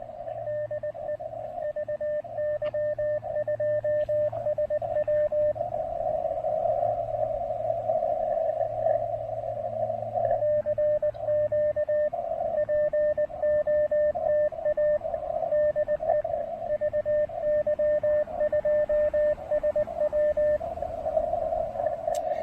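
Morse code CW sent on an amateur radio at Cap Tourmente National Wildlife Area in Québec: a steady sidetone beeps in long runs of dots and dashes, loud and continuous, with fainter keying from another station and a low hum underneath.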